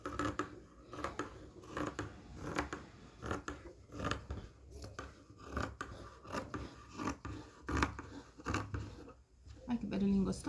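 Scissors snip through patchwork quilt fabric in a steady run of crisp, close cutting strokes that keep a regular rhythm under soft talk.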